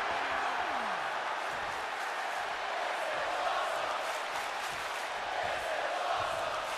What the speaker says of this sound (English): This sold-out crowd here in Ford Field in great appreciation